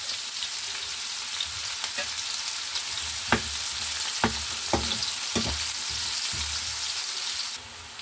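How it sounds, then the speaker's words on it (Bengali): Green chili and onion frying in a pan, a steady broadband sizzle running throughout with a few sharp stirring knocks and scrapes of a utensil against the pan near the middle, close and fairly loud, no voices. "এখন দিয়ে দিব কাঁচা মরিচ আর পেঁয়াজ"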